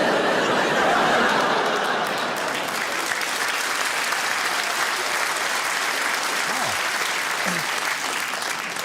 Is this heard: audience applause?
yes